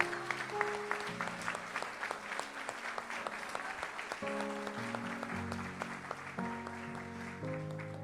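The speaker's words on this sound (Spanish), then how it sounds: "Dale ese aplauso fuerte al Señor." Sustained applause from a church congregation during a sermon, steady clapping throughout with music playing underneath.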